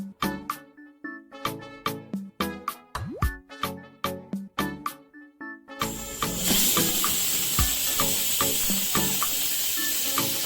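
A pressure cooker holding mutton liver with water, turmeric and salt vents steam. A loud, steady hiss starts partway through and continues to the end, after a stretch of rhythmic clicking tones.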